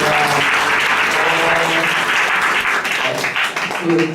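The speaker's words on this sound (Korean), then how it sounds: "박수 해주시면 되겠습니다." A congregation claps at a church service, steady and loud, with organ or keyboard notes sounding underneath.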